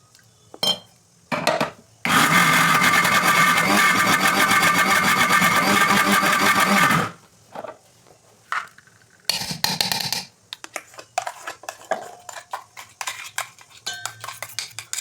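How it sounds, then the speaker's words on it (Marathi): A kitchen mixer grinder whirs loudly while grinding soaked lentils with a little water into a thick vada batter, a steady roaring burst of about five seconds, with clatter of utensils before and after. "आता आपण ही डाळ मिक्सरमध्ये छान काढून घेऊया"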